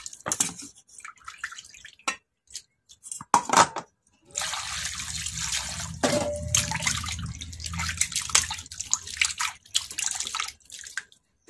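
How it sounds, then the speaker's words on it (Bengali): Fresh fish being washed by hand in water: a few scattered splashes and drips at first, then a steady run of sloshing and trickling water, fairly close, with no talking. "চলো মাছগুলো ধোয়া হয়ে গেল,"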